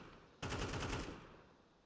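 Automatic gunfire in the Counter-Strike map Anubis: a sudden loud, rapid burst of shots lasting about a second, then a fading reverberant tail, with no talk over it.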